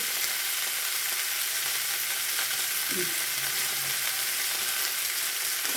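Okra frying in oil in a pan, a steady close sizzle that runs through the whole stretch with a brief soft knock partway through.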